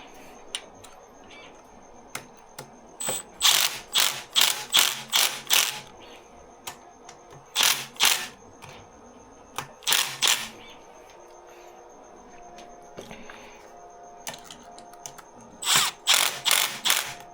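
Clamp bolts on the triple clamps of a 20x4 bike fork are tightened with a ratcheting tool, giving close, sharp bursts of rapid clicking in several separated groups over a quiet indoor background.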